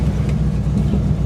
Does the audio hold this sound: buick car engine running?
yes